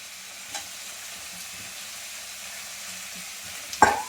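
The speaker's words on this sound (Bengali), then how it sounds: "এদিকে সয়াবিনটা আমি ভাজি, ভেজে নিই ভালো করে" Soybean chunks fry in a pan on a home stove with a faint, steady sizzle, then a short utensil clank near the end.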